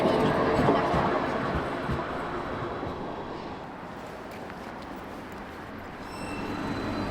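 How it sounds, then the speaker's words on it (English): A Croydon Tramlink tram pulls into the Sandylands stop outdoors, a moderately loud rolling rumble that swells at first, eases as it slows, then rises slightly again, with faint wheel clatter. "That's a tram just pulling in here at Sandylands."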